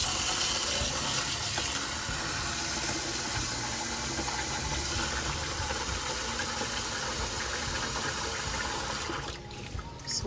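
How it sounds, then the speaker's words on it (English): Jasmine rice is washed under running tap water, a loud, continuous rushing splash that holds steady for about nine seconds before easing near the end, heard close up with no talking. "And wash it with water."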